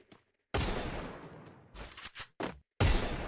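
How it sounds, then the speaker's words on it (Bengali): Gunfire in a shooting video game on a training ground: loud bursts of shots broken by short silences, close and harsh, with no talking. "এখান থেকে তোমাদেরকে হেডশট মেরে দেখাই"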